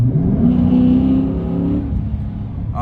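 A car with a shaker hood scoop accelerates on a curving road, engine note climbing steadily with a whining whir layered over the roar, close and loud, then easing off near the end.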